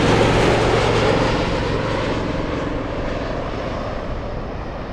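Alaska Airlines jet arriving at Anchorage from Seattle, a loud close engine roar that slowly fades and drops in pitch as it passes, with no talk.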